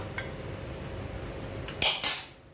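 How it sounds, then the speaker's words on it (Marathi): Leftover oil goes into a pan with a spoon while an Agri Koli fish curry is being made. A quiet, near stretch ends in a few crisp metallic clinks of the spoon against the pan. "आता टाकते तेल चमच्याने टाकते तेल"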